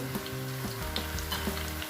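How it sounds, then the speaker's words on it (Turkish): A pot of Turkish pumpkin dessert bubbles and sizzles steadily at close range, uncovered, with soft pops and small clinks over a constant low simmer. "Açık bir şekilde kaynamaya devam ediyor"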